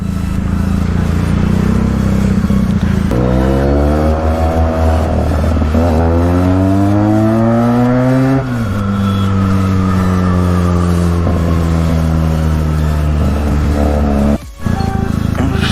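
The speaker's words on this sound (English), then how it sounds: "Saturday night, this much of traffic is unbearable." Heavy Saturday night road traffic, with engines close by that rev up and drop in long rising and falling sweeps, a steady loud rumble underneath and a brief pause near the end.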